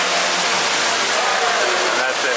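Ruby Falls, an underground waterfall in a cave, pours with a loud, steady hiss and rush that fills the space, unbroken throughout.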